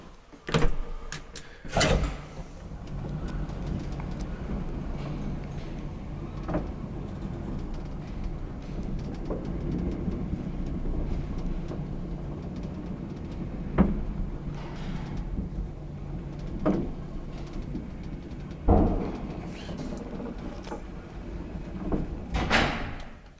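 A 1962 Kone traction elevator in an apartment building in Lahti, Finland, humming steadily through a ride, with low rumbling machinery, a few sharp thuds and clunks from doors or the car near the start and end.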